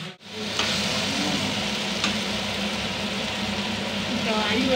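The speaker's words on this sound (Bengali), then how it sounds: "আলু এখন কষা হচ্ছে" Potatoes sautéing in a pan on a home stove produce a steady close sizzle with faint stirring scrapes and a couple of sharper clicks, running continuously under a low background hum.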